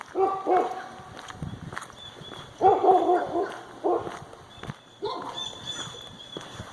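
Dogs barking outdoors in Louisiana, several bursts of fairly close barks separated by brief pauses, with footsteps and background noise between them.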